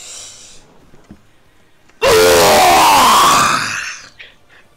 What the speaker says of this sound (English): So I'm gonna release my frustrations by screaming.